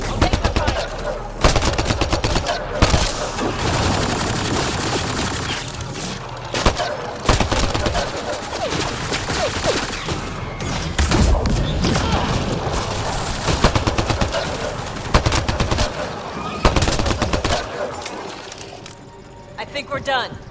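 Sustained gunfire from a firefight in the video game Mass Effect Andromeda, rapid bursts and single shots clattering loudly and almost continuously, with voices speaking over the shooting.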